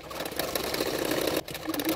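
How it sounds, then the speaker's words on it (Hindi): A sewing machine stitches a 1-inch strip of extra fabric along the edge of a double katori blouse, a steady close mechanical whir that pauses briefly near the end before resuming. "उसको भी किनारे किनारे पे सिलाई कर रही हूँ।"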